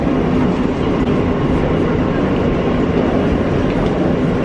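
A train rolls through a New York subway station with a loud, continuous broadband rumble and rattle that stays steady throughout, with no clear talk over it.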